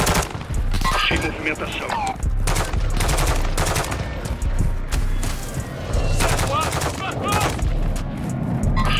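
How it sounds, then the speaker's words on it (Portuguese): Near, loud rapid gunfire and automatic bursts ring out almost without pause during a desert firefight in Call of Duty Warzone 2.0, with a player's voice briefly heard over the shooting. "Todo tiro aqui."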